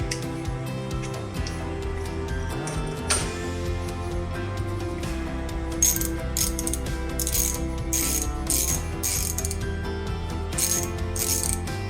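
Ratchet wrench clicking on a Micro Swiss all-metal hot end of an Ender 3 3D printer, with repeated metallic ratcheting under mechanical handling noise, close and steady, with bursts of bright clicks later.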